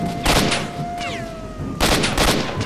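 Gunfire in Stalker Shadow of Chernobyl comes as two clusters of loud, sharp shots, a quick volley of several near the start and another rapid burst later, with a thin whistling tone between them.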